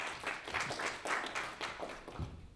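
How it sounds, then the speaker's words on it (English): Audience applause at a cryptocurrency event, CoinFest UK 2018, for a speaker from Crown Platform, a steady spread of many hands clapping throughout, moderately loud, with no speech over it. "round of applause for Joe from Crown"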